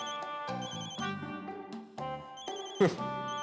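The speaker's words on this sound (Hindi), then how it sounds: "हेडक्वार्टर से फोन है" A telephone rings with a loud, close electronic ringtone in a repeating melodic pattern, alone and with no talk.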